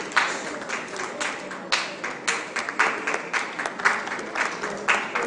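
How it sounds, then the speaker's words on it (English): An audience applauds two honoured Sambalpuri women on an Odisha television programme, a steady patter of many hands swelling in waves, fairly loud and close, with a voice faintly underneath. "A big round of applause for both the Sambal ladies"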